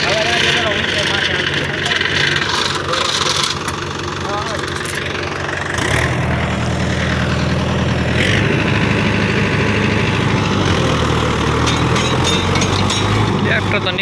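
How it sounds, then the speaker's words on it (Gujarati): A farm tractor's engine idles and runs close by, its low diesel rumble steady and strengthening midway, with voices talking over it. "ટ્રેક્ટર તો નીકળી જાય ત્યાં"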